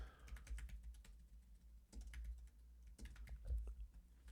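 Fingers tap quickly on a computer keyboard nearby, a series of irregular crisp clicks in short bursts with small pauses, under a low background hum and no talking.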